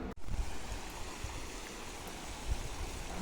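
A waterfall pours down a cliff of the Sahyadri range near the Marleshwar temple in Konkan, feeding the Bav river; a steady broadband rush of falling water fills the scene, close and continuous, with a brief dropout near the start.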